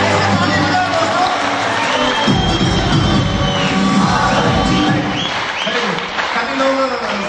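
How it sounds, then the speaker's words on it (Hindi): Audience clapping and cheering at an event, a dense burst of applause that swells and carries on, with crowd shouts and voices mixed in. "ऐसे ताली बजाओ, ऐसे ताली बजाओ दोस्तों"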